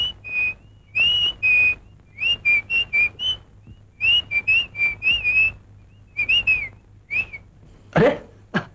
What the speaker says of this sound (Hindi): क्या खूबसूरत सिटी बजा रही हैं आप।